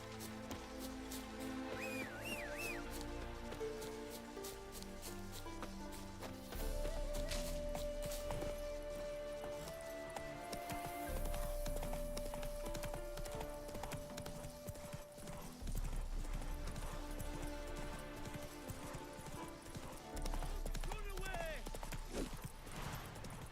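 Roach the horse gallops in Witcher 3, steady clip-clop hoofbeats and an occasional whinny running under game music and someone talking.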